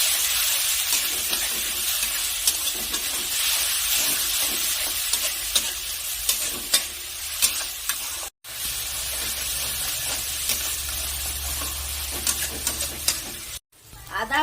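Ground ginger, onion and garlic paste fries in a pan over a medium gas flame, giving a steady sizzle with repeated scraping stirs and a short break in the middle.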